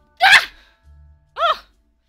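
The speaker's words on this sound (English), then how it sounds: "Needed a sneeze." Two sharp sneezes burst out close by, a loud explosive one at the start and a shorter second one after a brief pause with a faint breathy sound in between.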